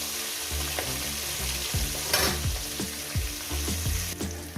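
Catla fish heads fry in an oil-filled pan, a steady close sizzle broken by repeated scraping and stirring strokes of a spatula, with no voices.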